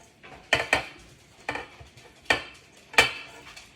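Finely grated sharp cheddar cheese is tipped into a mixing bowl, heard as a few distinct clinks and knocks of utensil or container against the bowl, spaced irregularly in a quiet kitchen.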